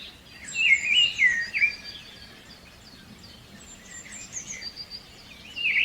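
Several birds chirp and twitter in a jungle, with bright, overlapping calls that are loudest early on, thin out midway and pick up again toward the end, all fairly near, over a faint low hum.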